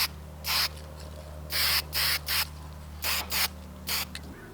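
A coating sprays onto a dirt bike part in seven short hissing bursts of varying length, close and fairly loud over a steady low hum, with no talking.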